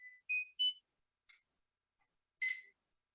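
An analog avalanche beacon receiver emits sparse, faint electronic tones: a few short rising beeps, then scattered brief blips separated by silence.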